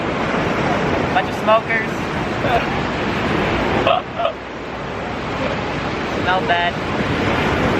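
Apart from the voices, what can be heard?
beach with ocean waves and wind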